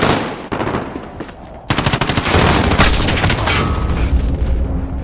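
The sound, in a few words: airstrike explosions in Modern Warfare video game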